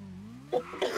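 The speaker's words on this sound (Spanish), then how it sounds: "Perdón por la tos." A short, raspy cough breaks out close to the microphone, two quick rough bursts following a brief hum of a voice.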